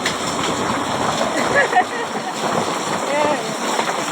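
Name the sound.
heavy rain and storm water splashing in courtyard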